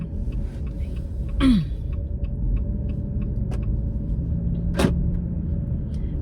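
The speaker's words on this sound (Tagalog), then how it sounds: "So I'm just driving safe, guys." Car driving slowly on a road, with a steady low engine and road rumble throughout and a couple of brief clicks or thumps inside the cabin.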